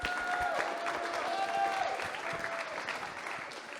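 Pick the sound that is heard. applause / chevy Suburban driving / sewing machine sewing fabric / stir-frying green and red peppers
applause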